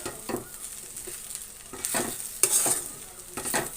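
A spatula stirs an ivy gourd and coconut curry in a pan, making rhythmic scraping strokes over a low sizzle, close up and moderately loud, with no voices.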